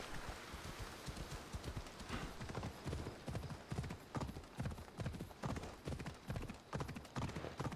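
Rhythmic horse hooves trot steadily in a quick clip-clop pattern in Assassin's Creed Odyssey, fairly close and continuous throughout, with no voices.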